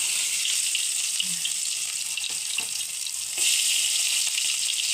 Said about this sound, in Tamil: இப்போ இஞ்சி பூண்டு போட்டு கொஞ்சம் நல்லா வணக்கிக்கலாம்.